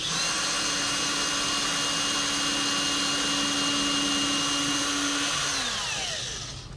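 A power drill drilling a pilot hole whirs at a steady high pitch for several seconds, then winds down as the motor slows to a stop.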